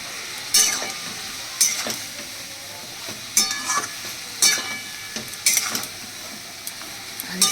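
Spoon scraping and stirring poppy seed paste with drumstick pieces and potato in a pan with raw mustard oil, about eight sharp scrapes in an irregular rhythm over a soft sizzle, close and clear.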